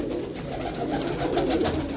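Pure-bred pigeons in a rural Punjabi loft coo continuously in soft, overlapping throaty calls, close by and moderately quiet.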